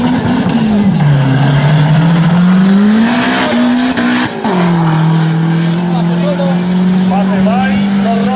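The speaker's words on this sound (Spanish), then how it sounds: "El STI salió con todas las cuatro ruedas del All-Wheel Drive." A Subaru STI with all-wheel drive and a turbo engine launching at a drag strip, engine tone loud and close, holding steady then dipping and climbing again, with tire noise and a voice talking over it.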